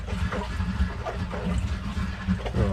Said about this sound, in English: Oh, that'll be filling up the hot water tank now, I should imagine.